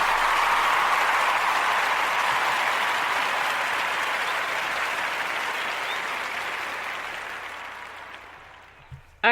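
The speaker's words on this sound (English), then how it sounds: "So I'm going to give them a round of applause for doing that." A round of audience applause from a seated crowd at a local government gathering: thick, continuous clapping that starts full and gradually fades over about nine seconds, ending with a sharp bump.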